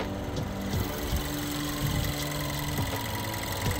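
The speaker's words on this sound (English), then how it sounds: "Engine's running in the background, as you may be able to hear" A VW Golf 1.2 TSI petrol engine idles quietly at a steady, low hum with faint mechanical ticking, heard from nearby with no talk.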